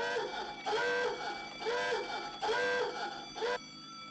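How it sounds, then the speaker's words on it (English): An electronic alarm in a sci-fi station blares in repeated warbling bursts, each about a second long with short gaps, loud and insistent and heard alone. "I hate that alarm."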